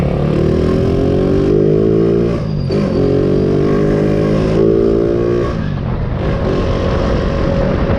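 Motorcycle engine, a Raider that has blown up again, running close and loud with a steady droning hum, briefly dipping and rising as the revs change.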